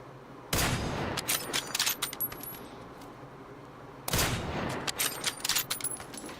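An MG3 machine gun fires in a video game in two separate bursts a few seconds apart, each a loud rattle followed by scattered clinks and small impacts.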